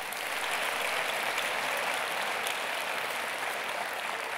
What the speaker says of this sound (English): Everybody clap it up for little Paul.